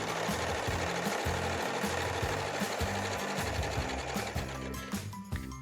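A sewing machine running flat out while stitching a fabric strip set, a loud, continuous, rapid needle chatter with a steady rhythmic thump, slowing and fading only at the very end.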